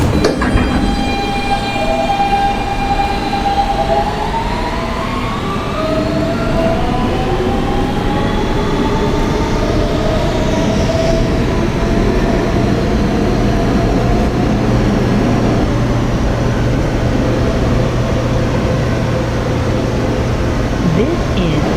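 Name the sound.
Kawasaki R160B Siemens subway train running between stations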